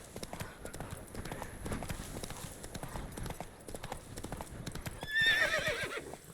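Roach, a horse in The Witcher 3: Wild Hunt, gallops with steady clip-clop hoofbeats throughout, ending in a loud whinny near the close.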